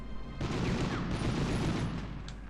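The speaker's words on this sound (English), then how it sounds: "They just leave things that can explode out in the open for you to shoot so that they can explode and kill things." Exploding barrels shot in the Medal of Honor video game, a dense rumbling burst of blasts and gunfire rolling continuously and loudly through the whole stretch with no talk.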